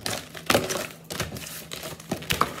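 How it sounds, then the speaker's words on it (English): Tarot cards shuffled by hand, giving a string of soft crisp riffles and flicks with a few louder snaps, close and fairly quiet, with no talking over it. "I'm shuffling backwards."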